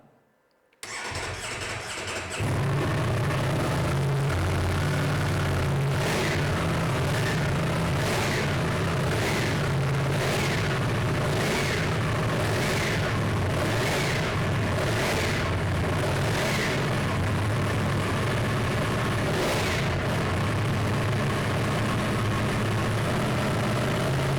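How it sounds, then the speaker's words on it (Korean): A 2022 Ducati Streetfighter V4 motorcycle on its stock muffler starts up and then idles with a steady, fairly loud exhaust rumble. Repeated revving blips rise above the idle, and no one speaks. "순정 머플러인데도 배기 사운드는 조금 큰 편이에요."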